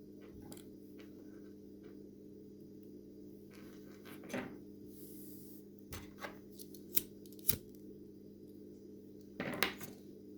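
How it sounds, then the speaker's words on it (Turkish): Scissors snipping threads during needle lace shuttle flower work, a few faint, sparse clicks and snips spread out over a quiet background, with small handling rustles between them. "Ben şurada hemen bu iplerimi kesip alıyorum."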